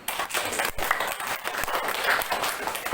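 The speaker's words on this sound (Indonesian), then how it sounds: "Kasih aplaus untuk kelompok 2" Classroom applause for a student group, a dense burst of many hands clapping together, steady and fairly loud throughout with no voices over it.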